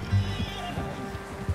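Horse in Red Dead Redemption 2 gives a short whinny with soft hoof clops, close and moderately quiet, under the game's ambient background.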